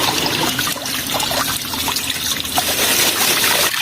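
Vegetables washed in water from a roadside mountain spring on the terraced hillsides of Yuanyang, Yunnan, with a steady splashing rush of flowing water and handled leaves, loud and close and continuous, with no talk.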